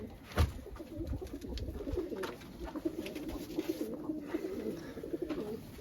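Pigeons in a coop, kept as mated pairs, coo softly and steadily, a low rolling murmur of several birds at moderate distance with no voices over it.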